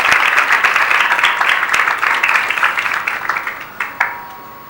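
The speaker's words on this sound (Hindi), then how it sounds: "ताली बजाओ" A small group claps for a child's birthday, brisk close-up applause that gradually thins and fades toward the end with a few last scattered claps.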